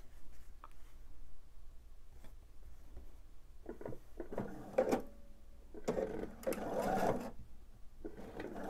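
A sewing machine stitches background fabric for a quilt block, running in short bursts of rapid, steady stitching separated by pauses, moderately close and fairly quiet.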